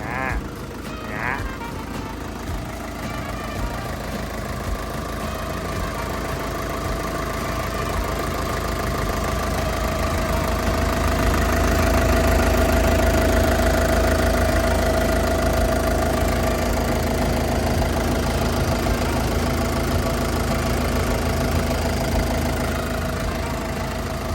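A Caterpillar 910G wheel loader's 6LK1 diesel engine idles steadily and close by, a continuous low rumble with a faint knocking texture that swells slightly midway, with no voices over it.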